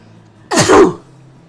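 One sharp, loud sneeze from a person, close and isolated, bursting out abruptly and fading within half a second against a quiet room.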